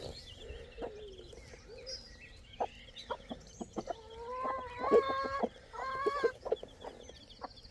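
Chickens and roosters on a homestead cluck and call in a busy, overlapping stream, with a brood of chicks nearby; close, varied calls rise and fall, with louder bursts toward the end.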